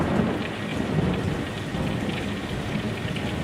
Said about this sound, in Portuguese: A chuva caía pesada no Cabo Canaveral.